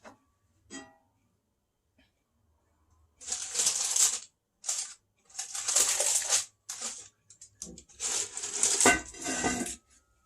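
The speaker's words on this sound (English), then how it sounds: "So I'm going to put the lid back on top." Clattering bursts of a lid being set and shifted on top of a bread pot, with scraping and knocking in several separate loud clusters between quiet pauses.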